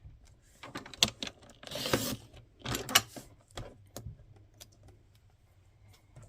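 A paper trimmer slides and slices through paper in a few short, faint scraping and clicking strokes with small mechanical rattles, close up in a quiet room with no talking.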